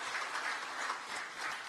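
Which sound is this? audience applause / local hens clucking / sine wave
audience applause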